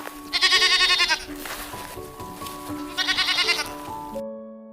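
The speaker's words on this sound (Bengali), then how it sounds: "ছতে ছাগল, ছাগল ছানা" A young goat kid bleats in two bursts of loud, wavering cries separated by a short pause, close and clear, over a steady background tone.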